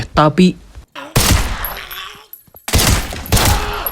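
Bursts of rapid gunfire in two loud volleys from a film, with a brief voice at the start and sharp cracks echoing between the bursts.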